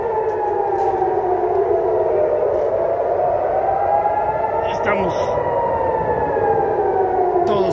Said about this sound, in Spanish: sirenas sonando justo frente al Azrieli. Misiles en camino